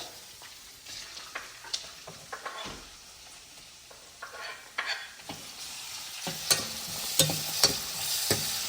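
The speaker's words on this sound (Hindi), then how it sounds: "और प्याज को कुछ देर के लिए अच्छे से भुनने देता हूँ।" Onions frying with cumin seeds in a pan for rajma, with steady sizzling and repeated scrapes and clinks of a stirring spoon that grow louder toward the end.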